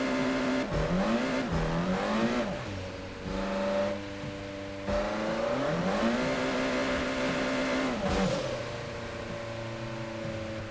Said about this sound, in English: I complimented it in my review, but the car sounds are good